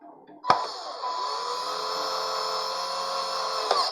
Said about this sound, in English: I'll just screw this back together.